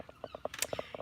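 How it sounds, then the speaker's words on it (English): Seagulls call outdoors in a quick run of short, clipped yelps, about a dozen in one second, fairly faint and overlapping with a brief burst of hiss. "It's the seagulls just now. You'll hear them in every video."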